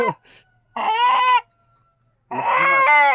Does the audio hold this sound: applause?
no